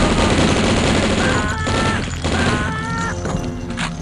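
Gunfire shooting cultists in the DOS shooter game Blood, a dense loud barrage of shots and crashes filling the whole stretch.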